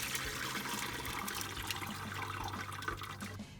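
Cooking liquid with white mushrooms is poured from a pan through a strainer for a soup base, giving a steady, close splashing and gurgling stream of water that runs for several seconds, then eases at the end.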